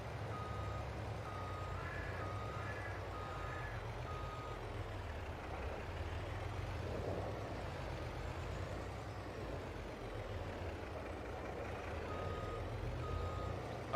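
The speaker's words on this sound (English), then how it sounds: "I hate backing up smaller trailers" Reversing beeps from a truck backing a small trailer in Farming Simulator 22, a steady repeating beep over a constant low engine drone that lasts the whole time, with no talking.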